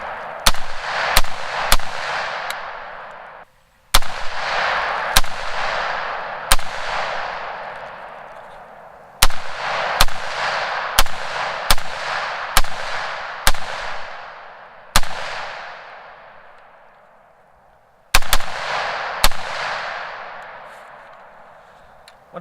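Loud, sharp gunshots from a gun fitted with a long eBay muzzle brake, about twenty in irregular clusters and quick strings with short pauses, each cracking close by and ringing out briefly.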